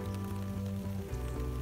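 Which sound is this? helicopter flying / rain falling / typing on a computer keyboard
rain falling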